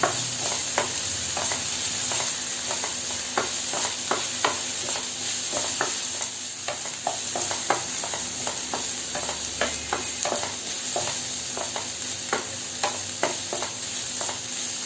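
Chopped green chilli being stirred into egg thoran as it fries, a steady sizzle beneath the frequent light scrapes and taps of a spatula against the pan.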